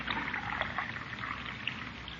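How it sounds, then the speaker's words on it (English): Coffee poured into a cup in an old radio comedy scene, a brief steady trickling stream, fairly close and clear, with no talk over it. "Let me pour your coffee, Unky."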